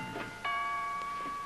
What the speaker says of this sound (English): would you mind answering the doorbell, please?